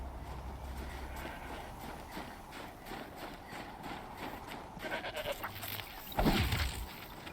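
Goat bleating in the video game Horizon Zero Dawn, a brief nasal bleat near the end among soft hoof steps and ambient game noise.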